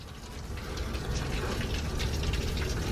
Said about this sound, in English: now it is just pouring rain.